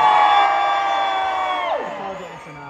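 Audience at a live show at Butlins Minehead holiday resort cheering loudly and steadily, with sustained voices and whoops that fade slightly toward the end.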